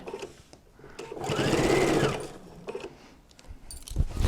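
A sewing machine runs a diagonal stitch on a fabric notebook holder, a short whirring burst of about a second that rises and stops, with quieter handling clicks before and after.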